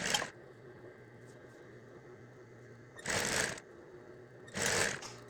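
A sewing machine pushes over a thick centre seam on a flamingo hooded towel, sounding in three short whirring bursts with quiet gaps between them.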